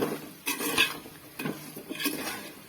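A spoon stirs spice powder into chicken pickle in an oily pan. Scraping and clinking strokes come in a loose rhythm, close and moderately loud, with a faint sizzle.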